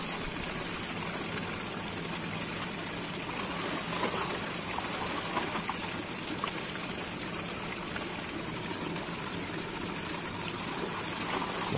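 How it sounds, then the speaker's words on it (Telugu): Fresh water poured and splashing steadily while handloom yarn for Pochampally saris is rinsed until it turns white, a continuous broadband gush and trickle with no pauses and no voices. "మళ్ళీ వాటర్ పడేసి కొత్త వాటర్ పడుతూనే ఉండాలి."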